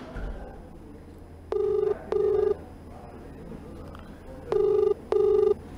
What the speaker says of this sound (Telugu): ఎస్ఐ నెంబర్ రింగ్ అవుతుంది, ఆయన ఆన్సర్ చేయడం లేదు.